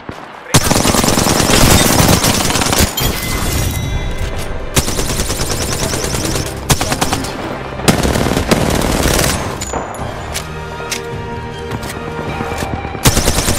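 Rapid automatic gunfire from an Apex Legends match, loud and close, with sustained bursts and short pauses throughout, single sharp shots mixed in over game effects.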